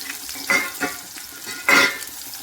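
Small onions, curry leaves and chopped tomato frying in a pan, a low steady sizzle broken by three or four louder scraping stirs spaced unevenly, close and fairly quiet, with no voices.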